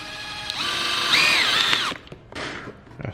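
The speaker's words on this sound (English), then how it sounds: "he's about to drill this shit" A power drill bores into a DIY Louis Vuitton-inspired bag or trunk, giving a loud, close whine that rises and dips in pitch for under two seconds before cutting off into lighter handling rattles.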